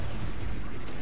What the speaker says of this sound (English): his missiles simply hit here very harmlessly